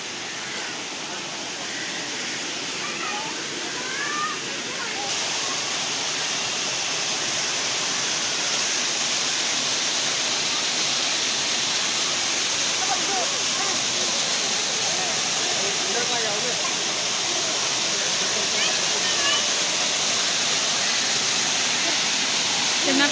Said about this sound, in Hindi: ये आबशार की तरह बनाया है ये।